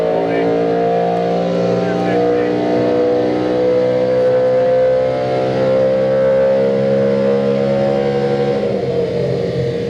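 A stage 2 tuned BMW M3 runs at high revs on a dyno, its engine holding a loud, steady, sustained drone with layered harmonics for the whole stretch, easing slightly near the end.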